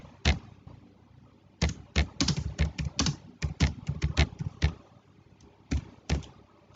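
Python code being typed on a computer keyboard: quick bursts of crisp key taps with short pauses between them, close and clear, with no talking.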